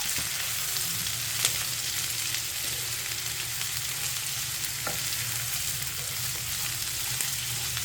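Onion and garlic sauté in a pan for a South Indian chicken dish, giving a steady, quiet sizzle with a couple of faint stirring clicks, close by and without talk.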